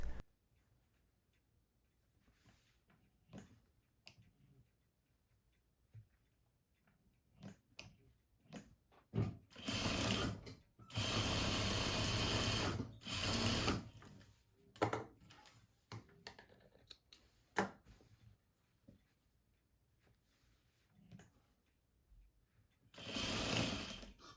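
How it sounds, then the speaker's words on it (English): A sewing machine stitches the shoulder seams of a peplum cardigan bodice. It runs in a few bursts, one long steady run in the middle and shorter runs around it, with quiet pauses and small handling clicks between them. "Now we can sew both the shoulder seams on the bodice."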